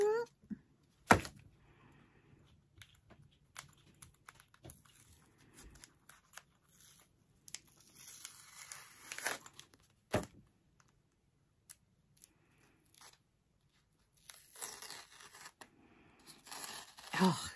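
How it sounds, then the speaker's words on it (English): Tape is peeled off a thrifted wallet during a makeover, giving scattered short tearing and crackling bursts, with a longer, louder run of ripping near the end, close and fairly quiet against a hushed room. "it's time to pull the tape"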